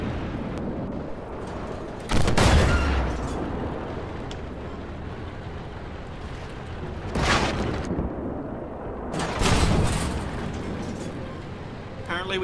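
Tank guns firing in Armored Warfare: three heavy, booming shots several seconds apart, loud and close, each with a rumbling tail, while someone talks throughout.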